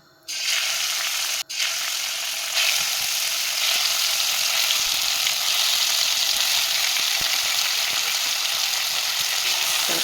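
Chicken pieces hit hot sunflower oil in a preheated cauldron and fry with a loud, steady, close hiss and crackle that rises sharply at the start, briefly dips, then continues unbroken.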